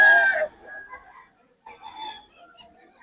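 At a gamefowl market in Bocaue, a rooster lets out a short, sharp crow at the start, then softer, scattered calls and clucks that come and go over a quiet background.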